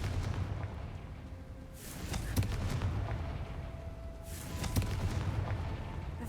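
Hogwarts Legacy's Confringo explosive spell goes off twice a couple of seconds apart, each a booming burst over a steady rumbling background.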